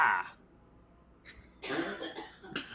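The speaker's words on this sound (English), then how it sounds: "Was someone like coughing in the background of that?" Harsh coughing fits from a woman in the background, a short bout followed by a longer burst of repeated coughs, fairly loud.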